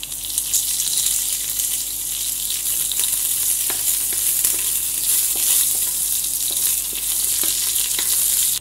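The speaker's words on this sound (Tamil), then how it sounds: "பட்டை ஏலக்காய் நல்ல எண்ணெயில செந்து நல்ல வாசம் வருது" Cinnamon and cardamom fry in oil in a pot for mutton nonbu kanji, a loud continuous sizzle close by with faint stirring clicks, no talking.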